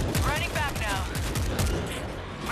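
Rapid overlapping gunfire in the zombie shooter World War Z, including shotgun blasts, dense and loud over a chaotic background of battle noise and voices.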